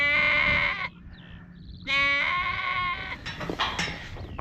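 Sheep on a Highland hillside along the Dunbeath Strath path in Caithness, Scotland, bleating loudly and close in two long wavering calls, then several shorter, rougher bleats overlapping as the flock answers.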